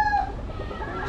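A brief cluck from a game fowl stag with a straight comb, Hongkan color and yellow legs, a short close call at the start fading into faint background.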